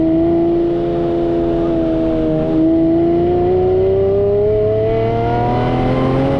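A Lamborghini Murcielago SV's V12 engine holds a loud, sustained revving drone, close by, its pitch dipping then climbing steadily as the revs build, with no talk over it.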